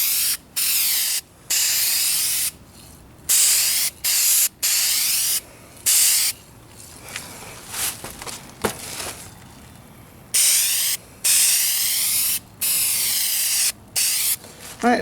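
Duplicolor scratch filler paint sprayed from an aerosol can onto a 2004 Kia Spectra rear bumper, repeated loud hissing bursts of one to two seconds separated by short pauses, with faint handling noises between.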